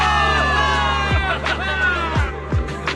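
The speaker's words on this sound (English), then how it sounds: "Give it up for yourselves, soldiers! Cheer for victory!" A crowd of soldiers cheers in the video game Zenless Zone Zero, with voices massed together and a few sharp falling whoops rising above a sustained tonal backdrop.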